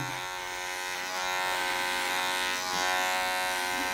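A Lesima LS 1.000 cordless hair clipper runs steadily with a close, continuous electric buzz that swells slightly partway through, with no talk over it.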